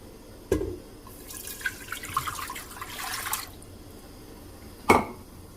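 Two cups of water poured into a container for banana pepper pickle brine: a close, bright splashing gush lasting a few seconds, framed by two sharp knocks of the container being handled, in an otherwise quiet kitchen.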